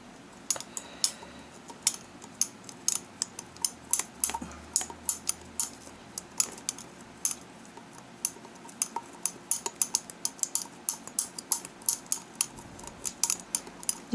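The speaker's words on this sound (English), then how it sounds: "we give it a stir" A black cat protection oil mixture being stirred, giving a quick string of small clinking and tapping ticks, irregular and fairly faint, scattered densely over a soft background hiss.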